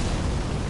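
The Fire's Deadly Sin spell in the Elden Ring video game bursts in a loud, close, roaring blast that fills the whole brief moment with a thick, rumbling fiery surge and no voice.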